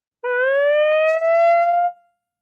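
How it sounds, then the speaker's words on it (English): An emergency alarm siren wails as a single steady, loud, rising tone lasting under two seconds, with a brief dip near the middle before it cuts off cleanly. "you might hear the alarm still going off here."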